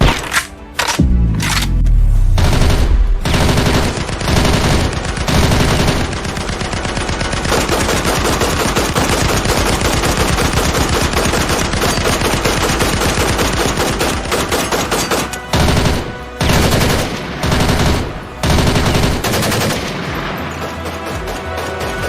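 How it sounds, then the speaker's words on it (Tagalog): Rapid bursts of gunfire crack through a horror story narration about an aswang, heard loud and dense as sustained automatic fire with a few separate shots at the start and end, alone without talk. "meron pa ulit silang narinig na mga sunod-sunod na putok ng barel sa di kalayuan"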